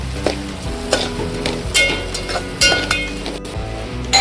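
Chopped onion sizzles in a pan with asafoetida and turmeric, a steady frying hiss broken by the repeated scrape and clink of a spatula stirring close by.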